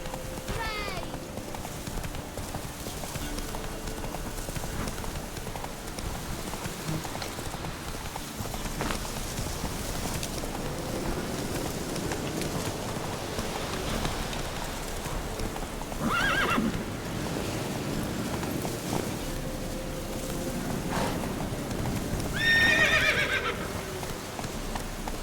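Roach, a horse in The Witcher 3 video game, gallops with steady clip-clop hoofbeats under a constant ambient bed, letting out a whinny early and a loud neigh near the end, plus another shorter whinny midway.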